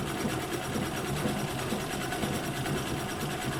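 A White Rotary treadle sewing machine stitches steadily during free motion quilting, its close, loud mechanical whir running continuously and evenly throughout, with no talking.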